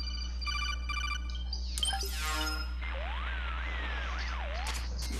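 A cell phone rings in the Metal Gear Solid 4 video game, a short patterned electronic ringtone with bursts and sweeping tones over a steady low hum.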